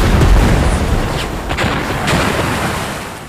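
Cannon fire from a ship in the Seven Knights 2 video game: a loud, dense rumble of booming shots and blasts that rolls on continuously through the whole stretch, heard without any speech.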